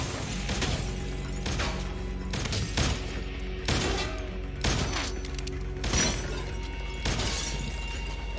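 Gunfire from the TV show Better Call Saul comes as a series of sharp shots and crashing bursts at irregular intervals over a busy background, fairly loud throughout.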